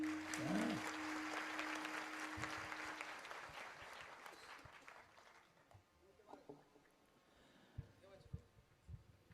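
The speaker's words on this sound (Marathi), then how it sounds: "होऊन जाऊ दे टाळ्या" Audience applause at a Marathi kirtan honoring Shri Gajanan Maharaj, loud clapping at the start that fades over several seconds into scattered claps and quieter room sound.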